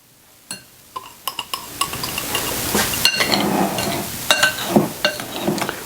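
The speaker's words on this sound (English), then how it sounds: "We're going to mix this together, the egg yolks, the sugar, and the cornstarch, and the little bit of salt." Egg yolks, sugar, cornstarch and a pinch of salt being mixed in a bowl, with a run of sharp utensil clinks and scrapes against the bowl that builds into steady, close stirring with no talking.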